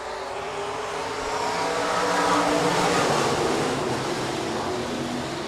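Stock cars roar off the start of an eight-lap heat race at Rapid Speedway, a dense, steady engine rumble that swells toward the middle and eases slightly near the end, with no one speaking.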